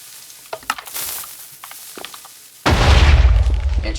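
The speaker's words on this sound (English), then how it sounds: "so I'm going to fire the cannon." A cannon fires in a Minecraft factions server game: after quiet scattered clicks and small pops, a sudden loud blast erupts and rolls on as a dense, rumbling, crackling roar to the end.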